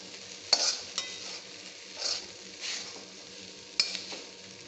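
Dry okra roasting over high heat in a pan, a quiet steady sizzle broken by a few sharp spatula scrapes and stirs, close by with no talking.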